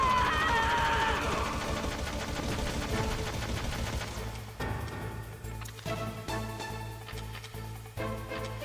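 Gunfire in Metal Gear Solid, a burst of quick shots over a thick game soundtrack, dense at first and then thinning into scattered clicks and hits under steady music.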